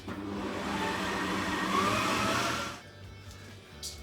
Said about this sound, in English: Popping it into the stand mixer with the dough hook on there